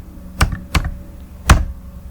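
Three separate keystrokes on a computer keyboard sound close and clear, two quick taps and then one heavier press after a short pause, with no talking.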